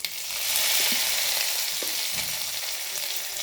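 Green chillies fry in hot oil for kande pohe, a steady close sizzle and crackle with a few stirring knocks in the pan, and no talking.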